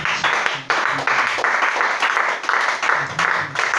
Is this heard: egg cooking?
no